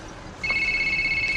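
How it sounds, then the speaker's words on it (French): A telephone starts ringing partway through, a steady electronic tone that holds at a clear, moderately loud level until the end, with no talking over it. "Le téléphone sonne."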